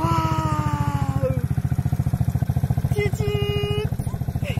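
A quad bike's engine runs steadily at close range with a rapid, regular pulsing throb and some mechanical clatter, while voices talk briefly over it.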